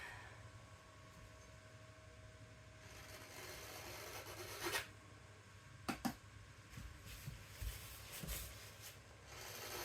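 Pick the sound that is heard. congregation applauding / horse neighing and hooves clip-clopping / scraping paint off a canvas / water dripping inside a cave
scraping paint off a canvas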